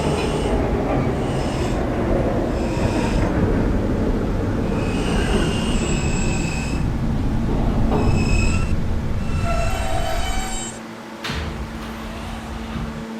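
An R160A subway train runs on the K line, with a steady loud rumble of wheels and car noise throughout, brief squeals and rattles, easing slightly near the end.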